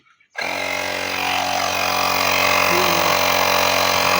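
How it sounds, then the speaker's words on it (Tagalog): A portable air compressor, powered from a motorcycle battery during a 300x10 mag wheel replacement, starts abruptly and runs with a steady, loud motor drone and hum that holds on at near-constant level. "meron kami compressor na dala, guys"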